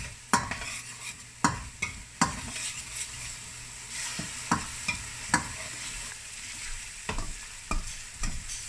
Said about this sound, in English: So I'm frying down my onions until they're separating from the oil